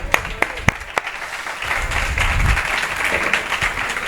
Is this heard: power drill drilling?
no